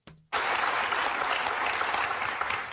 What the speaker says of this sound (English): the crowd clapping and praising Comey